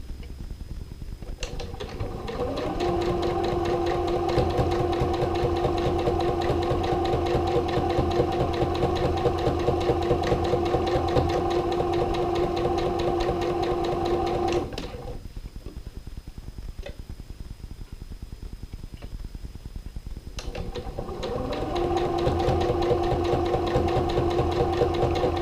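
A sewing machine stitches fabric bunting in a long, steady mechanical whir, stops for a few seconds with only faint rattling, then starts running again.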